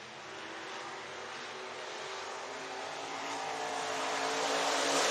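IMCA race cars roar around the dirt oval at Kossuth County Speedway in Algona, Iowa, a dense engine drone heard from a distance that swells steadily as the pack comes nearer.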